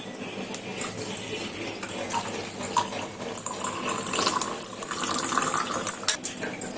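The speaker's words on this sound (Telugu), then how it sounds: "వాటర్ వేసుకున్నాం కదా దాంట్లోకి" Water is poured into a glass, a close, splashing trickle that builds and grows louder toward the end, with no talking.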